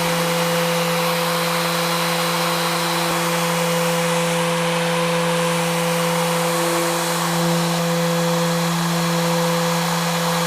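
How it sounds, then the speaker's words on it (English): Steady, continuous whirring hum of a Rupes BigFoot polisher sanding with an Abralon pad throughout, with a constant tonal drone and broadband grinding hiss, close and loud. "that makes you use your Abralon sanding this a little bit longer"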